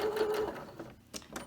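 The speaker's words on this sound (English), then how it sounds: "I just move my needle position all the way to the right. And then just run a stitch through the top." A sewing machine runs a short stitch through the top of an all-in-one cloth diaper, its steady mechanical whir close and clear for about a second before dropping out, followed by a few faint handling clicks.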